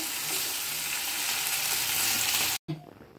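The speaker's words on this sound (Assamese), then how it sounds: "মাছখিনি ইতিমধ্যে ৰঙচুৱা হৈছেই, এনেদৰে আমি ফ্ৰাই কৰি ল'লোঁ" Steady, loud sizzling of fish pieces frying in hot oil, a dense crackling hiss that cuts off abruptly near the end.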